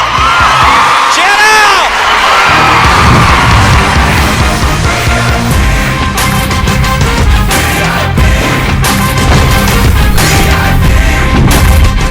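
Loud audience clapping and cheering at a 100th-episode celebration event, a dense steady roar of applause with whoops and shouts filling the whole stretch.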